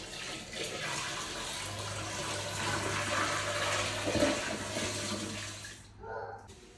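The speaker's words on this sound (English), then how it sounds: "And then you just empty this dirty water." Dirty mop water poured out of an O'Cedar spin mop bucket, a steady close splashing gush that runs for several seconds and then stops abruptly.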